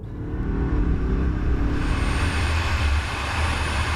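An Audi A8 launches hard off the line in a drag race against rival luxury sedans, its engine roaring loud and close in a steady, continuous surge that eases slightly near the end.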